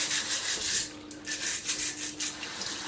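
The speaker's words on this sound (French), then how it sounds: "il faut utiliser la brosse" A brush scrubbing the mesh filter of an H Koenig GSX12 juicer: quick, rhythmic bristle rubbing strokes at close range, a run of soft scratchy swishes with faint water noise.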